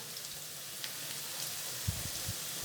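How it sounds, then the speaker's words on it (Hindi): Boondi, drops of gram flour batter, fry in hot oil for gol gappay with a steady soft sizzle and a few low stirring bumps near the end, quiet and without talk. "इसे तकरीबन 2 से 3 मिनट तक फ्राई करेंगे"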